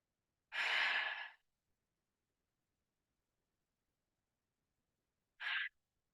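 Two breaths during a yoga session held in a forward stretch with the chest toward the thighs, a long audible exhale followed by a brief shorter breath a few seconds later, close and isolated against silence.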